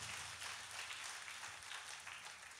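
An audience at a church prayer gathering claps in steady, dense applause, faint and distant throughout.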